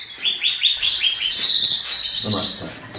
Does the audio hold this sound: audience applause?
no